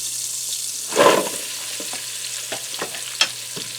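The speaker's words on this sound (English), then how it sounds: "And I'm going to allow these to saute in here for a few minutes so they start to soften up." Chopped onions, about a two-pound bag's worth, are stirred into a hot Ninja Speedi to sauté, giving a brief burst of rustling and sizzling near one second, followed by a soft steady fizz with occasional light scrapes and taps.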